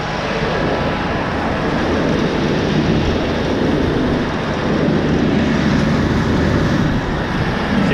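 A farm tractor stirs up a slurry pit in the rain, giving a loud, steady engine drone with churning rumble that holds unbroken throughout.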